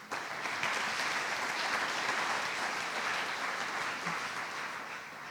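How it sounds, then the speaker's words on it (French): A sustained burst of audience applause for the participants in a mock trial event, dense and even clapping from a large crowd, lasting several seconds with a slight fade at the end. "Je vous prie également de bien vouloir les applaudir."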